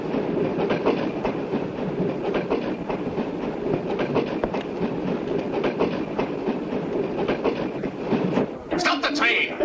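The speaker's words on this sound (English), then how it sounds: "Stop the train!" A moving train's rail wagons clatter in a close, continuous rhythmic clickety-clack, with a brief sharper rattle near the end, and voices are audible over the rolling noise.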